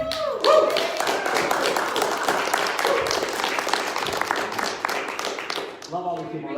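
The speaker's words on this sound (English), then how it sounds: "Can you guys all stand up and give Jerry a big round of applause for me?" Audience at the Fledge stands and gives Jerry a big round of applause: dense, close clapping fills the room with thumps of people rising, and voices call out over it.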